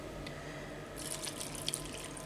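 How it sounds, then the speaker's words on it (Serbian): Water pours into a pot of lamb, vegetables and broth for a sour lamb soup, a close, steady splashing stream that starts after a brief quiet moment and continues to the end. "Nalit ću to vodom"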